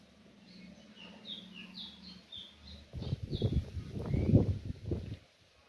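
A rufous-collared sparrow (tico-tico) sings soft, faint high chirping notes in a short series, then louder low rumbling and handling noise takes over.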